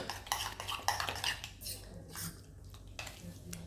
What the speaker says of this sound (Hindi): थोड़ा सा और घुमा लेते हैं ताकि अच्छे से मिक्स हो जाए।